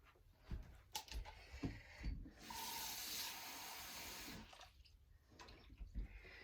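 Cold tap water runs into a cup for about two seconds as a steady rushing hiss, framed by quiet clinks and handling knocks before and after.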